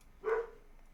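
A single short, fairly faint dog bark or yip sounds alone over low background hiss.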